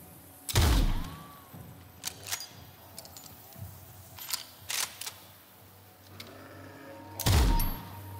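Rifle shots in the game Nightingale come as a sharp, loud report at the start, then scattered smaller cracks and thumps, and a final heavy shot near the end, with no talk.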